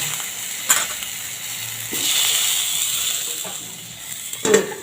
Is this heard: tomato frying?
yes